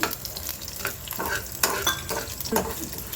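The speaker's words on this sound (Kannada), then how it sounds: "ಖಸಖಸೆ ಹಾಕ್ತಾ ಇದ್ದೀನಿ." Poppy seeds tossed into a hot pan with green chilies and peppercorns for a masala crackle and sizzle, with scattered stirring clicks and taps, close and continuous.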